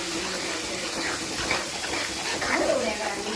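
Water poured from a vessel into a cooking pot for appalam kuzhambu, a continuous splashing trickle under a voice speaking.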